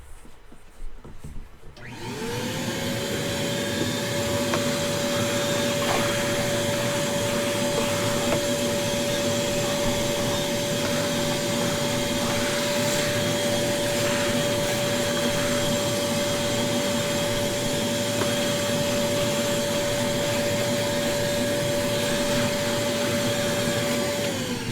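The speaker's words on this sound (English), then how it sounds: "Let's vacuum this up." A vacuum cleaner clears up metal dust in a workshop build, starting up after a brief handling clatter and then running as a loud, steady whine and roar for about twenty seconds with no talking.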